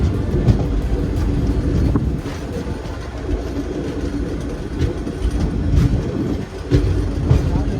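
Train 17008 Secunderabad Express rolls along in India on its way to Hyderabad, with a steady low rumble and rattle of the carriages and faint clickety-clack from the wheels throughout.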